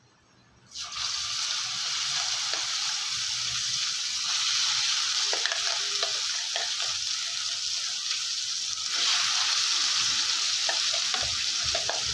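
Ground coriander thokku paste frying in a pan on a stove over low heat, a steady close sizzle that starts abruptly and continues with light stirring scrapes throughout.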